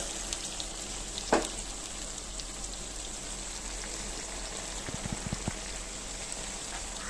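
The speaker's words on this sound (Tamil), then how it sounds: "இந்த எண்ணெயிலேயே இந்த கறி வேகணும்" Pieces of meat curry fry in oil, giving a soft, steady sizzle and crackle with a few faint clinks. There are no voices.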